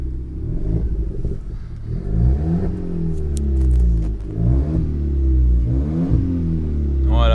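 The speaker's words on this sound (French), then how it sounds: "on va mettre des petits coups de gaz. On va vous faire écouter tout ça." A Renault Sport car's engine idles low and rumbling, then rises and falls with several short throttle blips. It is loud and close, with no talking over it.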